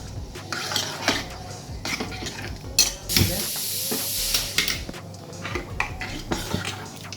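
Sambar mixture with chilli, a pinch of asafoetida and salt stirred in a metal pot, with a spoon clinking and scraping against the sides in busy, uneven strokes and a brief hissing burst in the middle.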